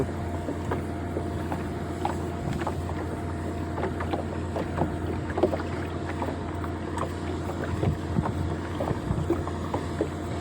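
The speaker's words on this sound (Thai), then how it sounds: "โอ้ยลมกระพัดดีเหลือเกิน" Wind blows outdoors beside a river during freshwater shrimp fishing in Thailand, a constant rough rumble buffeting the microphone with small gusty bumps and faint scattered knocks, no voices.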